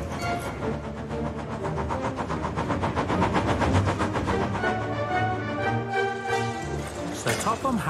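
A cartoon steam train engine chugs along the main line in a rapid, steady rhythm of puffs at moderate level, mixed with music and narration, fading with a sharp whistle-like sound near the end.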